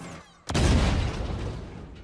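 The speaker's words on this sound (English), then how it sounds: "I also feel like the explosion sounds are a little bit too quick." A single sudden explosion from the Halo video game bursts in after near silence, a loud broadband boom that rolls on as a dense rumbling tail to the end, with no speech.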